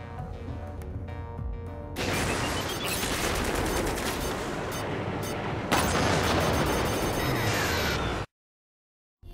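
Spaceship cannon fire in the space combat game Strike Suit Zero roars as a dense, continuous barrage of blasts for several seconds, loud and sustained, before cutting to silence.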